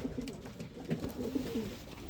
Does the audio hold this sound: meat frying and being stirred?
no